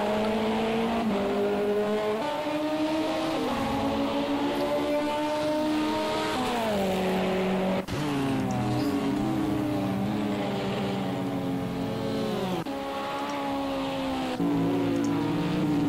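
Racing cars in the Project CARS 2 video game lap Le Mans in a multiclass LMP2 and GTE endurance race, with loud engine notes rising and falling through gear changes and shifting pitch as cars pass.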